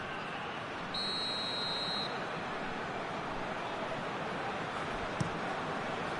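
A referee's whistle sounds in the football video game PES 2021, one sustained shrill blast of about a second standing out over a steady stadium crowd roar, followed a few seconds later by a brief sharp click.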